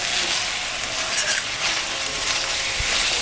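Country chicken pieces fry in oil in a pan as a grandmother stirs them for a thin curry, giving a steady, close, loud sizzle with occasional scraping from the stirring throughout.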